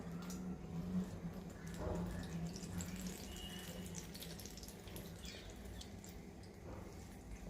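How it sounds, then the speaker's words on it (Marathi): Water trickling out of a cloth bundle of hung curd as it is twisted and pressed for shrikhand, a soft, steady, close drain with no clear separate drips. "पीळ दिल्यावर तुम्ही बघू शकत असाल की कसं पाणी निघतं आहे."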